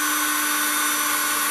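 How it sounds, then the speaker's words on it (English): Drill boring through wood during scale-model building, a steady, loud continuous whine with a strong constant tone throughout, alone without talk. "That's a good drill all the way through now."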